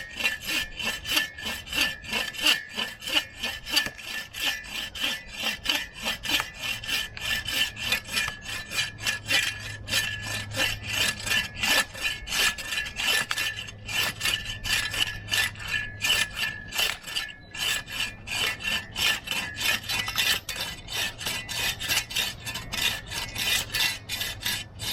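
A Sven folding saw cuts through wood at a camp, fast rhythmic rasping strokes repeating steadily for the whole stretch, close and loud with no talk.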